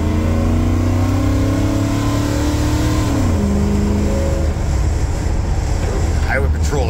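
A 1977 Ford F150 with a fuel-injected 460 V8 and C6 automatic revs hard through a loud, crisp exhaust while spinning its tires, the engine note sustained and rising and falling, close and dominant.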